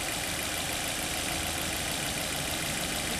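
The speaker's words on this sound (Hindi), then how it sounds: "शायद आपको जो है गाड़ी की आवाज़ में फ़र्क आ गया होगा।" A car engine idles with the air conditioning switched on, giving a steady, even hum with a close, unchanging broadband rumble and no voices.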